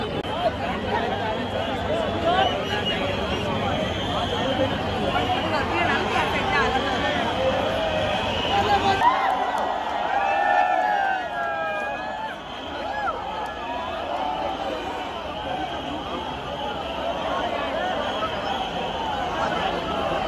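A dense crowd at the Lalbaugcha Raja Ganpati visarjan on Girgaon Chowpatty beach, a steady roar of murmuring voices and chatter that persists throughout, with a nearby voice talking over it.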